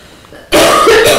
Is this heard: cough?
yes